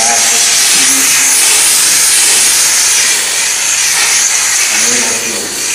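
A steam cleaner blasts a garbage can in a room, a loud continuous hiss filling the whole stretch with a slight dip in force near the end, close by and steady.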